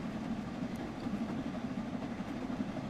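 A steam locomotive runs in the Train Sim World 3 simulator on the Peak Forest line, a continuous low rumbling rolling drone with faint rail clatter, steady and unbroken, no voices.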